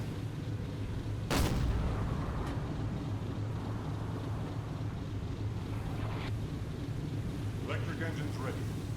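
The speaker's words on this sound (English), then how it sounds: "Oh, she's still returning fire." A single distant boom of an enemy ship's gunfire in the Silent Hunter 4 video game sounds once early on over a constant low engine hum and wind-like rush, with faint scattered later thuds.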